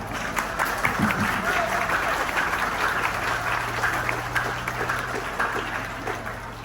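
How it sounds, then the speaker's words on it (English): A crowd of students applauds their parents at an honors band concert at a county fair, a sustained wash of clapping at moderate distance, with murmured voices and a low hum underneath. "Students, give your parents a round of applause."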